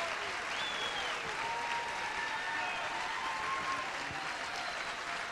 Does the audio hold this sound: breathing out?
no